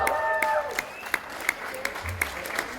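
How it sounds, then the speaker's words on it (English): A crowd at the dumpling eating contest of the 2025 BC Dumpling Festival in Coquitlam gives scattered, distinct claps after a brief voice, thinning to a sparse patter. "Please give him a round of applause, everyone."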